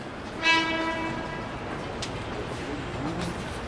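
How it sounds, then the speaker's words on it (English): Utah Transit Authority light rail train in Salt Lake City, with a horn-like tonal burst near the start over steady rolling rail noise at moderate distance, no talking. "So here's the train I was on."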